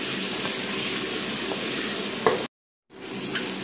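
Meat pieces sizzle and fry in a pot with golden-browned onions for an aubergine sauce, a steady close crackling hiss with a faint stirring scrape, briefly cut to silence before resuming.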